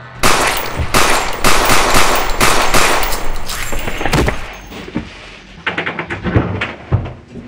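Gunfire rings out in a 2024 feature film: loud, rapid bursts of shots crack in quick succession for several seconds. The barrage then thins into scattered, sharper single reports near the end.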